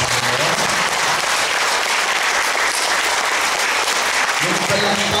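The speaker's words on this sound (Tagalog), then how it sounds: "Palakpakan natin sa Diyos." A church congregation claps together, a loud, dense and continuous wash of applause that fills the room, with a voice briefly heard at the start and end.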